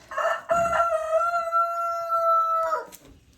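On a snowy day, a rooster crows once, loud and close, a long sustained call that trails off at the end.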